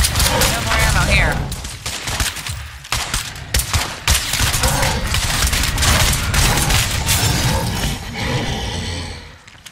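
Gunfire in the zombie video game State of Decay 2 rattles out in loud, rapid bursts of shots, nearly continuous with brief gaps.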